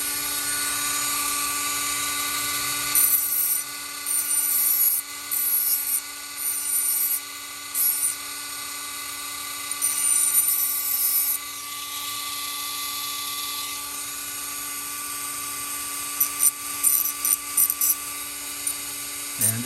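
A power tool running with a steady high whine while shaping a wooden sculpting tool to a flatter, hockey-stick profile, in repeated bursts of grinding and rubbing on wood, loud and close.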